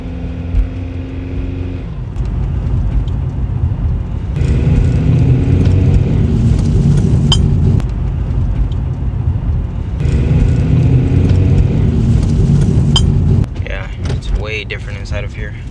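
Cabin road noise inside a Mercedes E350 with a V6, rolling at about 20 mph: a steady, loud low rumble and tire roar that swells and dips as the car moves, with brief bumps and clunks near the end.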